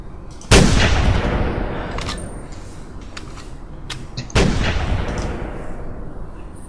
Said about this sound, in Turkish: Sen de vurdun mu yoksa hayvanı bir de?